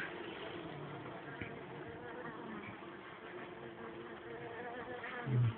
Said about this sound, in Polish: duża pszczoła, oczywiście jest.